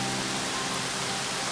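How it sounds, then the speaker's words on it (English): Summer rain falls at a French chateau in a dense, even hiss, steady and close throughout the short stretch, with no voices. "Once again, we've got rain."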